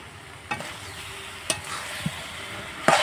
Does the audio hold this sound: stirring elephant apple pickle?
yes